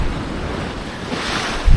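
Sea waves washing against a shore under steady wind noise, a continuous broadband rush with a louder burst near the end and no voices.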